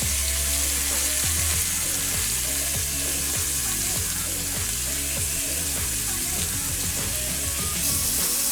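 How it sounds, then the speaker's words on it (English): Oxtails browning in a hot pan, with loud continuous sizzling and crackling spatter and occasional faint shifting sounds. Close and constant, with no talk. "10 minutes to brown all these oxtails"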